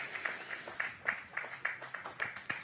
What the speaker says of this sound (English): everyone's standing to applaud that knock from the opener